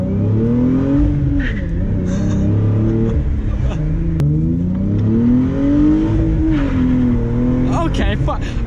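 A Hyundai Genesis 3.8 engine revs hard while accelerating, its loud droning tone climbing and dipping in waves close to the listener, with brief voices near the end.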